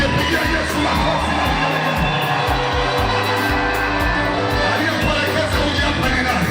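Church congregation praising Jesus with loud cheering, shouting and whooping from a large crowd, sustained and dense throughout, with rhythmic low thumps of music or drums running underneath.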